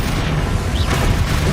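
Spell explosions from Confringo and Bombarda in the Hogwarts Legacy video game, a dense continuous wash of booming blasts and bursts that stays loud throughout with no pauses.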